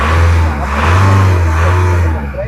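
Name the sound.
diesel car engine starting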